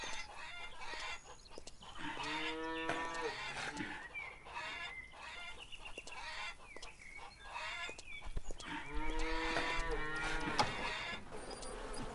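Cows moo in a farming video game, two long low bellows standing out amid clucking chickens and farm ambience, moderately loud and unaccompanied by speech.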